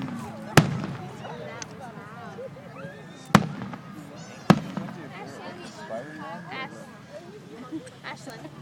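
Fourth of July fireworks go off in three sharp, loud bangs spaced a few seconds apart, heard under steady chatter from people nearby.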